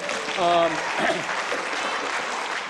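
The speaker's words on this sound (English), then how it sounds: "yes, you can applaud that because that's a really cool thing" Applause from the audience at a high school fall choral concert fills the clip as a steady, even wash of clapping, with a voice heard briefly over it near the start.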